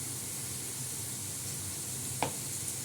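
Steady soft sizzle of food frying in a pan, low and even throughout, with one faint brief clink near the end.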